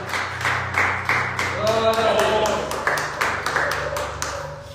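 A church congregation claps in a steady rhythm during a worship service, the sharp repeated claps mixed with voices singing or speaking over them.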